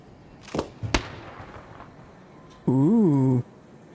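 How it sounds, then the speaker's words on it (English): Lure grenade in ARC Raiders: two sharp popping bursts with a fizzing tail, followed by a loud warbling electronic tone that sustains for under a second, clear against quiet background. "It's a lure grenade."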